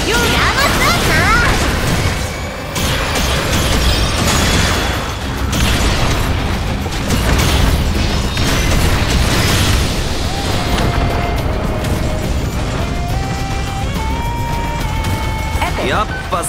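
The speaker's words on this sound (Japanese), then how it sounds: "やっぱ最後は敵の大爆発だよな。" A huge enemy explosion closes a mecha battle in the Megaton Musashi anime: a dense, sustained roar of blast and debris that fills the whole stretch at high volume, mixed with mechanical clatter, score and voices.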